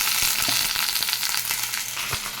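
Ridge gourd pieces fry with already browned onions in a pan, producing a loud continuous sizzle broken by occasional soft knocks and scrapes, with no voices.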